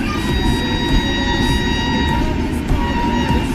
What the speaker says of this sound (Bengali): এদিকে ট্রেন ঢুকছে হাওড়া মুজফ্ফরপুর।